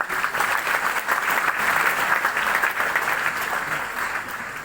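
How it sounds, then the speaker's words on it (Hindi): Enthusiastic applause from attendees of a business development training session, a dense, continuous clatter of many hands that holds steady and eases slightly toward the end. "जोरदार तालियां सर के लिए।"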